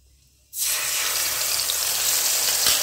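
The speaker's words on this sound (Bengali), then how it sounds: "এবার একটু কষিয়ে নিচ্ছি মশলাটা। মিডিয়াম ফ্লেমেই কষাচ্ছি।" A mixed spice paste hits hot oil and sizzles over a medium flame while being stir-fried for a hilsa fish curry, an abrupt loud hiss that then holds steady and close.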